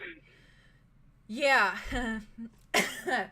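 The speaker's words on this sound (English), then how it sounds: "I coughed." A single short cough bursts out close up, followed a moment later by another harsh throat sound, with a brief spoken word between them.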